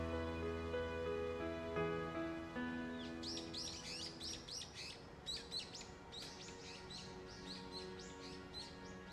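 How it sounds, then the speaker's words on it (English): Birds chirp busily in a quick, repeated flurry of bright calls as a song recording fades out, the sustained musical tones dying away beneath them. "You can really hear the birds going off at the end."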